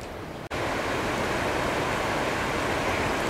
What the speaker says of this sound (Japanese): 青い滝の端です。